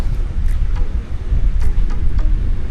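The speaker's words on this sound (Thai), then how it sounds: "ลมแรงมากเลยนะครับวันนี้" Steady, roaring wind buffets the microphone throughout, a continuous low rumble with gusty surges and faint higher whooshes, no voices.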